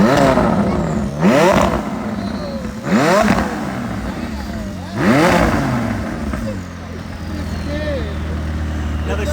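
A Ferrari Enzo engine barks into three sharp revs a couple of seconds apart, then settles into a deep, rumbling idle nearby at a Cars & Coffee show.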